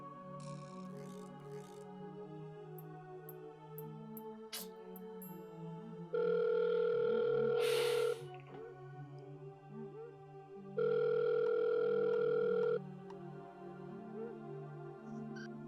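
Ringback tone of an unanswered telephone call, two long buzzing rings about two seconds each separated by a pause, heard over soft background music.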